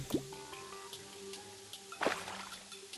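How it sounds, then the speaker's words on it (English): Water draining in Terraria, a game sound of soft drips and squishy liquid plops scattered over a quiet musical background, with a louder splash near the end. "I'll drain out the water a bit."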